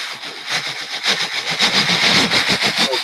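A voice imitates Thomas the Tank Engine passing by, a steady breathy chuffing and rumbling rhythm that swells slightly in the middle, close and fairly loud.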